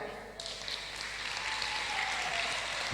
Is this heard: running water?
no